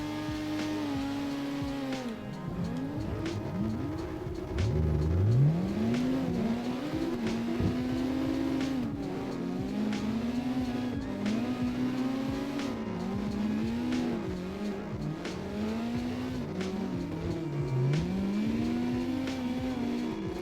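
Several drifting cars in the CarX Drift Racing Online video game, engines sweeping up and down in pitch as they rev hard, with tire squeal running continuously throughout, loud and busy.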